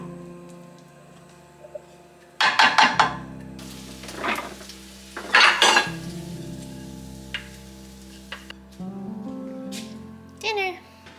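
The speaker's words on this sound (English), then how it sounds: "I think I'm gonna heat it up in a pan." Leftover pasta warming in a pan gives off a soft sizzle with stirring scrapes and clatter, building in a few louder bursts while a person talks over it.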